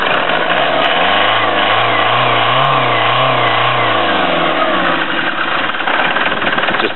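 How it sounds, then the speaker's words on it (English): Ford Transit Mk 6 MTDI diesel engine with 5,000 miles, revved by hand at the throttle: one close, loud rev climbs from idle, holds, then falls back to a knocking diesel idle. "I can just stick my hand in and rev it up."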